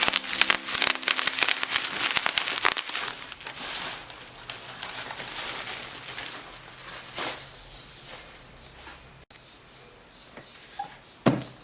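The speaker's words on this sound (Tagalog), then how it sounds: "paputok muna tayo." Rapid crackling pops and bangs from firecrackers burst in a dense cluster, then thin out into scattered snaps and a few louder cracks near the end.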